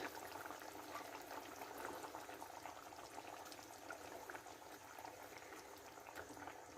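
Curry paste for a black pomfret curry bubbling steadily in a pot on the stove, a continuous close simmer with no talk.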